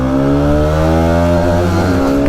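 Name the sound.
motorcycle engine revving and straining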